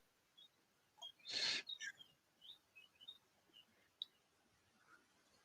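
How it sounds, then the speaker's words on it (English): Small birds cheep outdoors in short, faint, scattered high chirps, with one brief louder burst near the start over a quiet background. "I still hate the birds cheeping"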